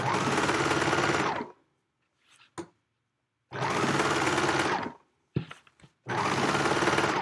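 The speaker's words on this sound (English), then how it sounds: "on my serger, I like to go around twice make sure I caught the edges" A serger runs around fabric edges while sewing a Yup'ik qaspeq, in three loud, steady bursts of machine whirring, each about a second and a half, broken by short quiet gaps with faint handling noises.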